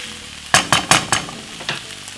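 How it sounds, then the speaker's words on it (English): Saltfish, garlic and vegetables fry together in a pan for a Jamaican fry-up, with a few loud sizzling bursts as food is stirred, then a steady low sizzle. "we're going to fry up the saltfish, the veg, and everything together now"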